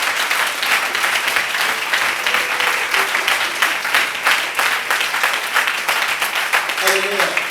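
A church congregation claps and cheers in a sustained, dense burst of applause during a Sunday service, with voices mixed into the crowd noise near the end.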